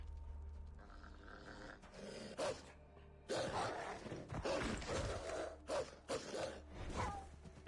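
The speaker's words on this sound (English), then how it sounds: "More wolves." Wolves growling and snarling in a snowy setting in Assassin's Creed III, low rough growls and sharp barking snarls in short bursts, close and fairly loud, with no talk.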